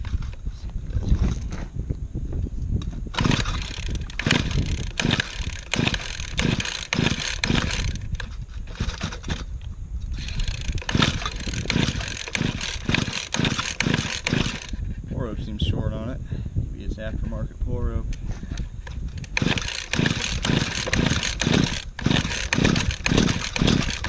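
A cheap roto tiller engine in a shop, pulled repeatedly in rhythmic bursts of sputtering cranking before catching briefly, close and loud, with a person talking between attempts.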